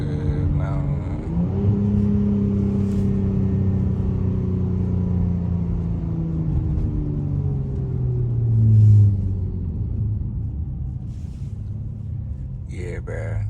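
A Chrysler 300 SRT in track mode gives a loud, close engine rumble from inside the cabin. The revs rise and fall as it downshifts, and a voice talks briefly over the engine noise.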